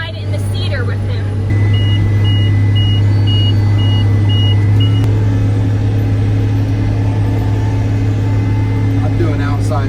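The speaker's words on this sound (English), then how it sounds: "we're seeding today, so I'm taking a ride in the seeder with him" Tractor engine pulling a seeder on a Montana farm, heard from inside the cab as a loud, constant low droning rumble with a repeating electronic beep partway through and a brief voice at the start.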